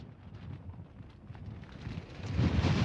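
Typhoon gusts sweep through Hong Kong in a steady, blustery roar that rumbles against the microphone, building louder toward the end with no voices.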